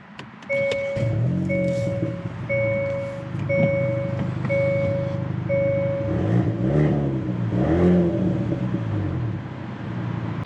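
A 2019 Hyundai Veloster N sits with its engine running after a push-button start, a low steady rumble beneath a repeating series of electronic chime beeps, with some shifting engine tone later.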